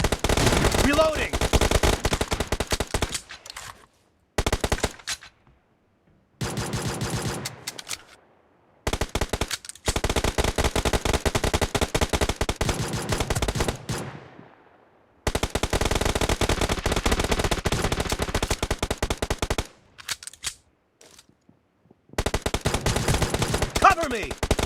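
Rapid gunfire from a PUBG Mobile match, dense bursts of shots separated by brief silent gaps, loud and close.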